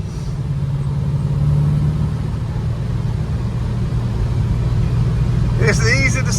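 A 1967 Chevelle SS 396 with a four-speed drives along a curvy road, its engine a steady, deep, loud drone throughout, with a voice speaking briefly near the end.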